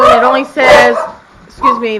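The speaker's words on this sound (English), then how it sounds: "that's the dogs going after the cat" Dogs bark and yip as they chase a cat indoors while someone cooks meatballs, short close barks mixed with a person speaking over them.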